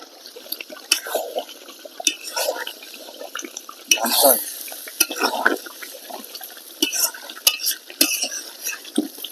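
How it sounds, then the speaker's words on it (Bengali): Fried potatoes being stirred into a country chicken curry in a pan, with scraping and clinking of a spatula against the metal pan in irregular bursts throughout, close and moderately loud. "এবারে আমি ভেজে রাখা আলু দিয়ে দিচ্ছি।"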